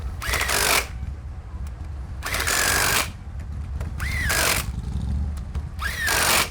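A power tool tightens the clamp bolts on Fat Baggers custom bagger handlebars, whirring in four separate loud bursts of about a second each with short pauses between them. No one speaks.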